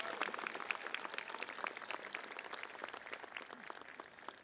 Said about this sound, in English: Another round of applause for Dr. Frank.